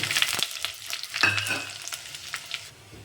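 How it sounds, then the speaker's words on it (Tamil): Dried red chilies frying in hot oil with crackling mustard and cumin seeds for a tomato kadayal, a close, busy sizzle with stirring and scattered sharp pops, no talking. "காய்ந்த மிளகாயும் நல்லா ஃப்ரை ஆகிடுச்சு"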